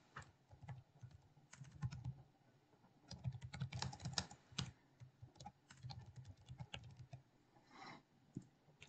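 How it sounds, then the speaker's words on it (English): Typing on a computer keyboard while entering verse text for a sermon bumper, with close, crisp keystroke clicks arriving in quick bursts separated by short pauses. "we're going to type in the next part of the verse"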